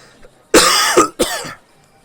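Two harsh, close coughs in quick succession, the first longer and rougher, the second shorter, against an otherwise quiet room.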